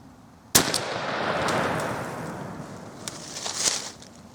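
A shotgun fires a single Remington Premier TSS turkey load outdoors, one sharp close blast followed by a long rolling echo and faint rustling afterward.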